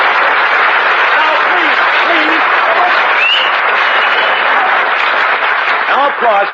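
A studio audience at a 1947 Milton Berle Show broadcast breaks into dense, loud, sustained applause that lasts throughout and tails off abruptly at the end, with a voice faintly audible beneath it.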